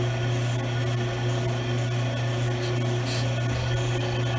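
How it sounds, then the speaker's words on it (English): Brake lathe cutting across a brake rotor, a steady mechanical hum with a thin high scraping whine of metal on metal, continuous and close. "See where it's starting to cut a line there and you hear metal scraping?"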